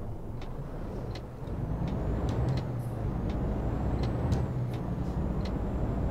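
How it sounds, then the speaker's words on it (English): Steady loud Iveco truck engine drone in Euro Truck Simulator 2, with a constant low rumble, punctuated by occasional short clicks and hisses, no voices. "At least you guys now will be able to hear the Iveco."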